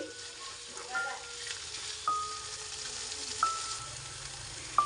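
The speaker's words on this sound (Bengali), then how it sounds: "পাঁচফোড়ন দিয়ে আবার একটু নেড়েছে নিচ্ছি এক মিনিট নেড়েছেড়ে একটু ভেজে নিচ্ছি" Panch phoron five-spice frying in a pan for a pickle, a soft, steady sizzle with a stirring spoon scraping and several sharp metallic clinks against the pan.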